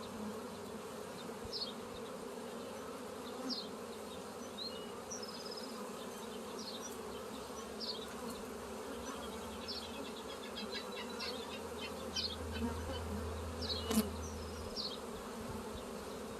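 Honeybees hum in a steady, dense drone while an open hive is inspected outdoors, with scattered individual bees buzzing close by and a low rumble from handling midway.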